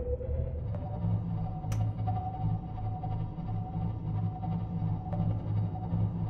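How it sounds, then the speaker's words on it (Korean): A submarine engine powers up in the underwater survival game Subnautica, giving a low, steady mechanical hum with faint pulsing tones and occasional soft pings, heard alone and fairly quiet. "엔진 파워링 업."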